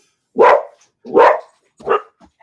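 A dog barks three times in quick succession, loud and close, with short pauses between each bark and no talking.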